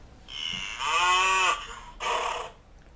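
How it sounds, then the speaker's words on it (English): A bull moos twice, a long, strong low call followed by a shorter second one, close and clear on a farm with no talk. "The bull is strong."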